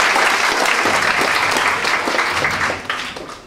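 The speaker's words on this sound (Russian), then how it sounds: "Под ваши аплодисменты" A theatre audience at a comic Eurovision-themed duet show applauds in a dense, steady wash of clapping that fades slightly toward the end.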